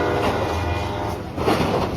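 A loud, sustained train horn blares over the rumble of a passing freight train approaching a crossing, swelling again toward the end.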